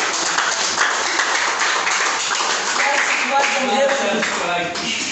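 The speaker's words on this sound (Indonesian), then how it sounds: "Berikan tepuk." Audience applause at a church gathering, a dense patter of clapping filling the room with voices talking underneath.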